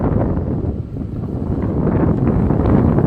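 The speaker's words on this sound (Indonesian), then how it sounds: "Anginnya cukup lumayan kencang sahabatku." Loud, steady wind roars and buffets the microphone continuously, a dense low rumble with no pauses throughout.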